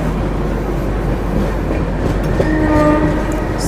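A train gathering speed on the Yesvanthpur to Coimbatore line keeps up a steady loud rumble, and a horn sounds near the end over the running noise.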